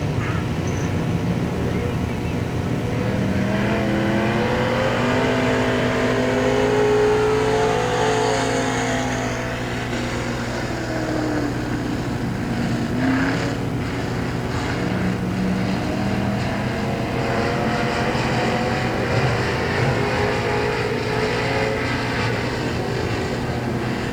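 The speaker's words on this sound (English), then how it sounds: "This is the final car in Group 1 of our pure stock time trials." A pure stock race car runs a time trial lap at Hagerstown Speedway, its engine a steady droning roar rising and falling as it circles the track at a distance, under continuous announcer commentary.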